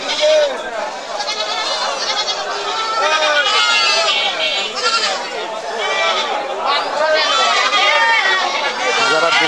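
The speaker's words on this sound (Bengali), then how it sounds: "দেশি জাতের ছাগল দেখেন, অসংখ্য দেশি ছাগল, রং বেরঙের, কালো, সাদা, লাল" Many local-breed goats in black, white and red coats bleat over and over at a crowded goat market in Chatmohar, Pabna, their loud, overlapping cries rising above a steady background of human chatter.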